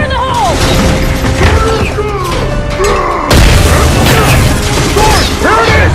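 A grenade blast in the sci-fi shooter Halo 4 booms loudly amid dense gunfire, with a sharp burst midway cutting through the battle noise and shouting voices.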